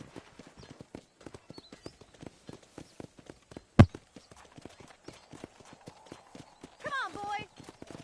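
Horses walking in Red Dead Redemption on a ranch, a steady clip-clop of hooves close by, with one sharp knock and a brief whinny near the end, while a voice talks over it.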